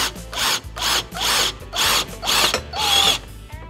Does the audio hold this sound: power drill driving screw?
yes